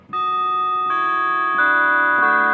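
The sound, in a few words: synthesizer imitating a 90s Howard Miller wall clock quarter-hour chime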